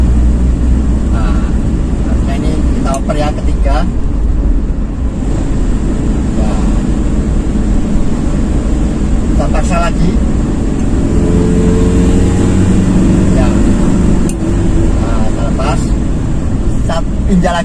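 A carbureted Toyota Kijang Super drives uphill in fourth gear while the throttle is released and pressed again. The engine drones steadily and closely beneath someone talking most of the time.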